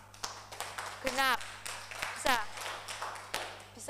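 Students in a classroom give a group a round of applause: scattered, sharp claps in short bursts, heard under a teacher speaking.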